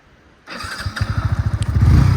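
A motorcycle in gear climbs out of a pothole on a rough track, its engine starting low then revving up in a fast, pulsing thump that grows louder and stays close.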